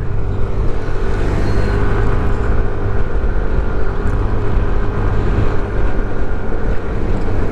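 A steady motorcycle engine drone climbing uphill with heavy wind buffeting the microphone, continuous and loud throughout, with no pauses or voices.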